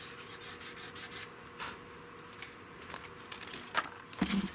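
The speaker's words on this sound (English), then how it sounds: "once I get this thing all sanded clean and slick and brand new" A 16 gauge European guild gun being hand sanded, giving soft repeated rubbing strokes, quiet and close, ending with a few sharper scrapes.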